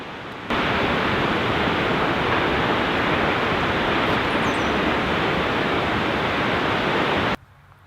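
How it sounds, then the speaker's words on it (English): Continuous broadband roar of a waterfall at a nature center in upstate New York, loud and steady for several seconds, with no voices. "natural wonders like this waterfall you see behind me"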